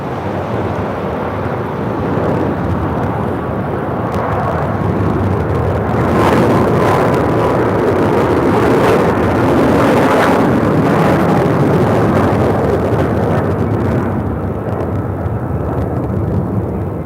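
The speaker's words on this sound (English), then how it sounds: "This is Philippine Airlines Flight 113 taking off to Manila on a 777-300 Mabuhay" Philippine Airlines Boeing 777-300 taking off at LAX, a loud continuous jet roar that swells through the middle and holds steady, with no voices.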